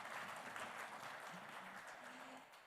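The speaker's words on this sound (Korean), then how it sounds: "한국국학진흥원장님께 다시 한번 큰 박수 부탁드립니다." Audience applause following a keynote lecture at an academic conference, a steady, faint wash of many hands clapping that fades slightly toward the end, with no voices over it.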